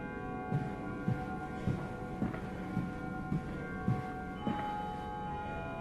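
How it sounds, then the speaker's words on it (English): A deep bell in Amnesia: A Machine for Pigs tolls slowly and evenly, about ten ringing strikes spaced roughly half a second apart, each with a sustained, humming resonance over a quiet ambient bed. "The bell also tolls 10"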